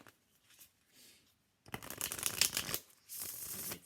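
An animal spirit oracle card deck is shuffled close by: a few soft riffles at first, then a louder, dense burst of papery card flicking, a brief pause, and another sustained shuffle.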